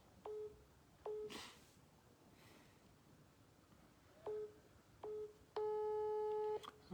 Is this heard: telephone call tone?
yes